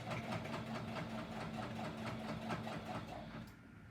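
A sewing machine stitching quilt layers runs steadily with rapid, even rhythmic clatter, faint and close, then winds down and stops near the end.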